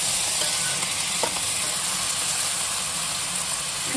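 Cashews and paneer fry in a pan with a steady, even sizzle that holds without a break, loud and close, with no voices over it.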